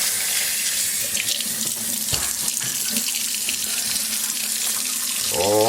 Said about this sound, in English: Let's get Happy all wet